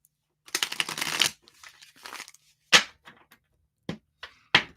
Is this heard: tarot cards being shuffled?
yes